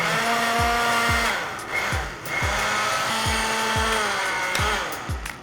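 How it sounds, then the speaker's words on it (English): A blender whirs as it blends cauliflower, its motor whine holding steady while the pitch repeatedly drops and recovers as the chunks bog it down, with rhythmic thumps as the load shifts. "just keep blending everything up"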